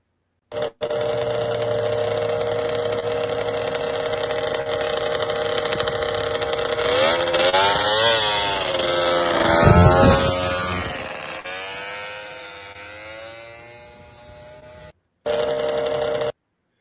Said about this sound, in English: that sled on the left is a sled Tom used to race